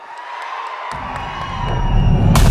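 A large audience at the Hari Hara Veera Mallu music event cheers and whoops loudly. The roar swells and grows steadily louder, with shouts rising above it and no talk.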